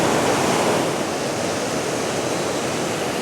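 A creek cascade rushes close by, a loud, steady broadband roar of tumbling water that fades slightly after the first second, then holds even with no voices.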